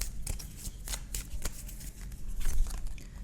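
Tarot cards being shuffled by hand, a close rapid series of crisp riffling flicks and slaps in uneven bursts, with no voice over them.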